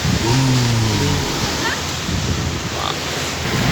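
Sea surf at Ao Nang beach rolls in as a broad, steady wash of noise, loud and close, with a brief voice-like tone near the start.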